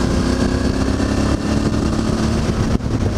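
Motorcycle engine with loud aftermarket exhaust pipes, a steady close rumbling idle or cruise that runs continuously throughout, with a brief dip near the end and no talking.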